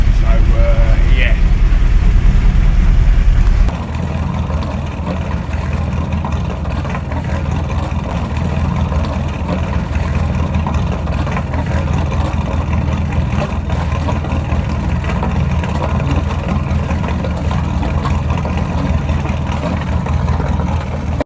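Twin engines on a liveaboard boat in a boatyard run together with a steady, loud, low droning rumble, a brief louder burst at the start settling into an even idle that continues throughout.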